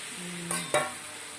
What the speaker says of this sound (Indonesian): Ini tidak terlalu lama, hanya sekedar diaduk-aduk saja